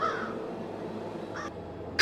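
A crow gives a couple of faint, raspy caws near the start and again later. They sit over a quiet background with a brief sharp sound at the very end.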